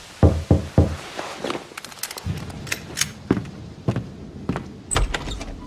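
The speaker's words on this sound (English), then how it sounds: "I had woken up to a knock at my door." In Max Payne 2, a knock at a door comes as three quick, sharp raps near the start, followed by scattered thuds and shuffling movements in a quiet room.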